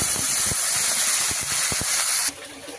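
Loud steady hiss and sizzle as water hits a hot pan of fried eggplant, potatoes and spices, with a few light knocks beneath, dropping sharply in the final half second.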